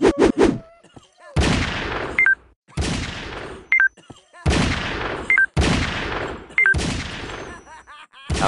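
Gunfire in the mobile game Circus Master Revenge comes in five sharp bursts separated by short gaps, each followed by small electronic chimes, with a few quick tones at the very start.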